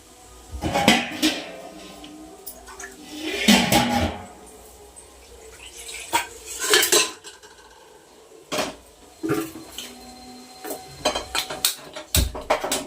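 Scraping and clanking of a spoon against a metal pan as fried cauliflower is stir-fried, irregular bursts of clatter with quiet gaps between, close by and alone.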